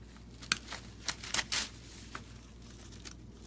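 Scissors snip through artificial decor stems above a node while trimming extra pieces for a handmade door decoration, making a few sharp, irregular crisp cuts and rustles close by over a faint background hiss.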